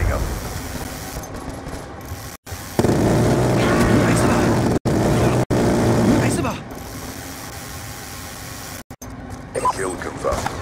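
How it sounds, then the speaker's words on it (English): The Death Machine minigun in Call of Duty: Black Ops 2 spins up with a loud, sustained mechanical whirring drone that kicks in abruptly and runs for several seconds. Sharp dropouts break it, and game voice lines play around it. "Death machine spinning up."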